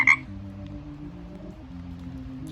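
A frog croaking in a steady low rhythmic drone close by, with a brief sharp sound at the start and no talking over it.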